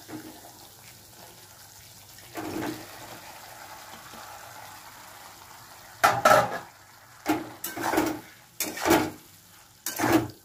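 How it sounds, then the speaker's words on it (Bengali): Okra tossed into a pan of spiced masala for bhindi do pyaza, with sporadic scraping stirs and short bursts of sizzling over a quiet, low background hiss; no one speaks. "ঢেঁড়সটা আমি দিয়ে দিলাম"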